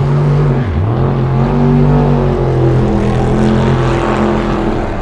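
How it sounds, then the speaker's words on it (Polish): Quarter-mile drag race cars roaring at an airfield motor show, a loud sustained engine drone with a rising and falling pitch as a car accelerates, steady and continuous with no talking. "W tle słychać, jak wyścigi 1/4 mili lecą."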